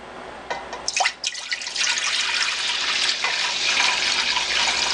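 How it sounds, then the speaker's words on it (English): Hard apple cider made from frozen apple juice is poured from one gallon vessel into a fermenter: a few drips and splashes at first, then a steady, close gurgling stream. "so we're going to easily pour that in"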